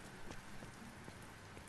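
Video game rain effect: a soft, steady patter of rain on a surface, faint and continuous, with scattered droplet ticks and no voices.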